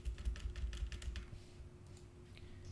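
Quiet, close computer keyboard typing in quick bursts of keystrokes while code is written, thinning out toward the end over a faint steady hum.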